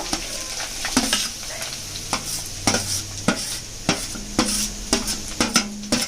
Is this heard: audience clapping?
no